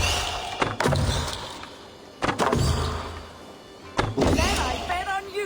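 Arrows strike a target in the video game Assassin's Creed Valhalla, giving three sharp thuds about one and a half seconds apart over steady game ambience and faint voices.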